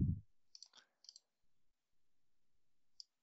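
Several crisp computer mouse clicks land in a quiet room, a quick cluster early on and one isolated click near the end, close and distinct with near-silence between them.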